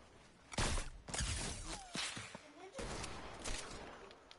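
Gunfire in a shooting video game, a few sharp broadband shots and bursts scattered across a few seconds at moderate level, with small tonal game effects between them.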